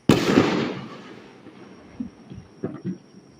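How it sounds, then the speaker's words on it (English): Distant fireworks over a city with high-rise buildings blocking the view: one sharp, booming blast is followed by a fading rumble and then several softer, scattered pops and thuds at irregular intervals. "So where are these fireworks sounds coming from?"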